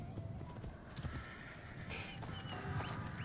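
Horse riding in Assassin's Creed Origins: a steady clip-clop of hooves at a trot, fairly faint and continuous, with soft ambient game sound and a brief swish near the middle.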